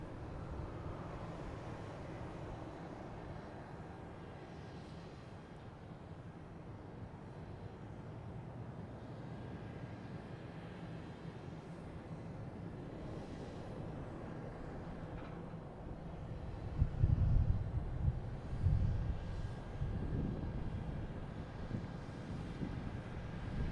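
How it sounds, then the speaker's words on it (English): Distant low roar of an Emirates Boeing 777 airliner arriving from Dubai at Boston Logan airport, a faint steady rumble with wind noise and a slight swell toward the end. "There's Emirates here coming in from Dubai. Boeing 777."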